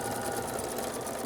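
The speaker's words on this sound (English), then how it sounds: "I'm going to stitch all the way coming right off." A sewing machine stitching a seam in fabric for a drawstring bag, a brief, close, steady mechanical whir without pause.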